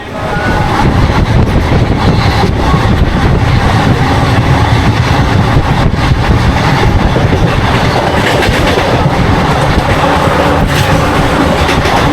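Riding aboard the Kharagpur–Balasore MEMU local train, a loud continuous rumble of wheels on rails fills the carriage, with rhythmic clatter running unbroken under faint background chatter.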